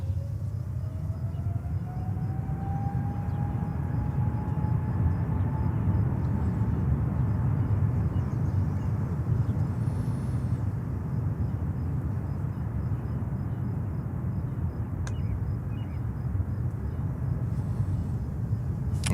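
A Boeing 777-300 airliner of ANA departs JFK airport in New York City, heard as a steady, distant jet roar with a slowly falling whine, holding fairly constant throughout with no talk.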